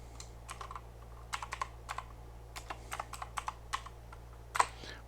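Computer keyboard typing an Excel formula, a string of quick, crisp key clicks at close range in uneven bursts over a low steady hum, with no talking.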